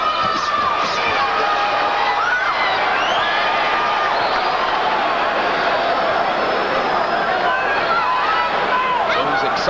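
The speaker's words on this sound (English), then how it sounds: "Excites the crowd with a few power shots" A boxing arena crowd at a light heavyweight title fight keeps up a loud, continuous roar of cheering and shouting after power punches, a packed, unbroken swell of noise throughout.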